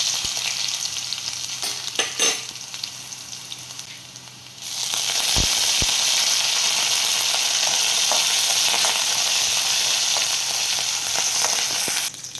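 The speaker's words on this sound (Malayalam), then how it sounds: "അത് വെളുത്തുള്ളി കറിവേപ്പില ഇടും. കറിവേപ്പില മുളക് കറിവേപ്പില ഇടും." Garlic and curry leaves frying in hot oil for a Kerala homemade seashell roast, a quieter sizzle at first that jumps to a loud, steady, close hiss after a few seconds, with a couple of sharp clinks and no talking.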